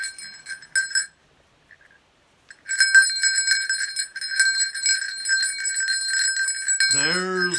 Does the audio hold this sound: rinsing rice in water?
no